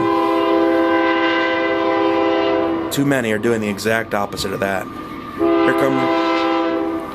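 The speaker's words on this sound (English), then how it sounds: "Here comes the train." A train passes and blasts its horn in long, loud sustained tones that break off while someone speaks close by, then sound again near the end.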